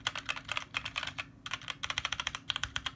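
Rapid bursts of key clicks from a Magicforce 68-key mini mechanical keyboard, typed fast and close, with brief pauses between flurries and a low hum underneath.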